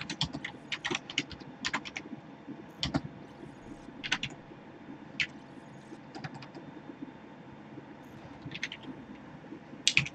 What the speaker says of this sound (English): But I'm just typing in the chat for anyone to look at the pictures.